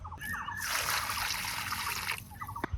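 Chopped jackfruit pieces are dipped in a container of water, a soft trickling and sloshing that lasts a couple of seconds, quiet and close, with a few faint knocks at the end.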